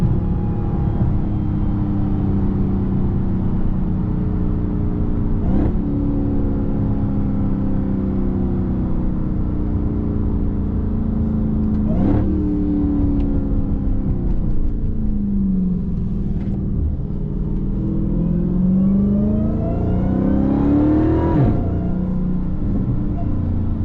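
A Dodge Challenger Hellcat Redeye Jailbreak engine rumbles steadily and builds in pitch as the car is eased into acceleration, a loud, close V8 drone with brief shifts and a rising pull toward the end.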